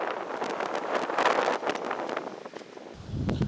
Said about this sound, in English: I think you can hear the sound of winds